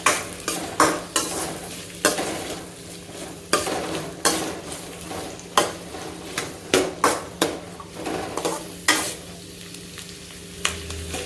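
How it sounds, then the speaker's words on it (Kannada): Ingredients frying on a low flame until crisp, stirred in a pan with a spatula, giving repeated sharp scraping knocks over a steady low sizzle, close and fairly loud, with no talking. "ಲೋ ಫ್ಲೇಮಲ್ಲೇ ಫ್ರೈ ಮಾಡ್ಕೊತೀನಿ"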